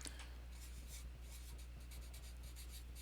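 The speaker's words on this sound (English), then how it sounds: "I'll write out the sample information here." Pen scratching steadily while sample figures for a statistics problem are written out by hand, a soft continuous scribble close by over a constant low hum, with no talking.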